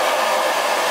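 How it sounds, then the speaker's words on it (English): An Andrew Barton hair dryer runs at full power, a loud, steady, close-up blowing roar that holds unchanged through the brief moment. "It's an Andrew Barton dryer."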